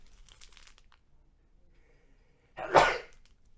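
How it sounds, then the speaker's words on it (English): One sharp, close sneeze bursts out near the end, loud and breathy, after a few seconds of quiet room noise with faint rustling. "I'm going to sneeze."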